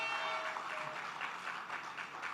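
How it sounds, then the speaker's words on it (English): Faint applause from an audience at a feature address by the Prime Minister of Trinidad and Tobago, a steady patter of clapping heard at a distance for a couple of seconds. "I want you to give yourselves a round of applause."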